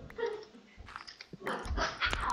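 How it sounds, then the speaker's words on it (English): A dog in Minecraft survival barks and yelps in a few short uneven bursts, fairly close, with other game sounds around it. "Another dog barking."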